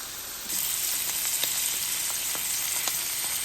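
A ribeye steak sears in a hot pan indoors, pressed flat against the surface, giving a steady, close, bright sizzle with a few faint crackles and pops scattered through it.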